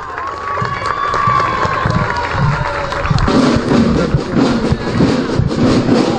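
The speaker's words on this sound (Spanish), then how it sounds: "Y está recibiendo los aplausos del público asistente." Spectators line a street parade in Santiago de Cao as a private school's contingent passes. The crowd cheers and claps loudly and continuously, with a tonal musical line early on and a more rhythmic patter of clapping later.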